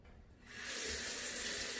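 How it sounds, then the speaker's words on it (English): Running water from a tap starts up after a quiet moment and then flows steadily as a soft, even hiss, faint and alone. "I can hear the sound of running water"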